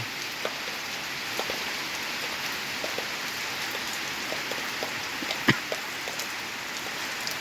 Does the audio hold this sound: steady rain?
yes